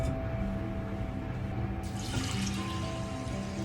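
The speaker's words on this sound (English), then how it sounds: "Add 2 cups of water." Water pours steadily into a pot of rinsed rice, a close, continuous splashing and trickling at moderate volume with no talk over it.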